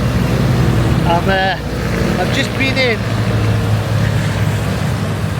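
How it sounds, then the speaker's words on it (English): Traffic on a busy main road in José Rizal's hometown, with a steady dense engine drone and horn-like tonal bursts, while a voice speaks briefly over it. "The traffic is crazy, it's noisy"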